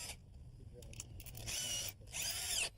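A power drill fitted with a countersinking bit pre-drills a screw hole through a shim under an exterior front door threshold, two whining bursts of moderate loudness following some faint handling clicks, with quiet talk in the background.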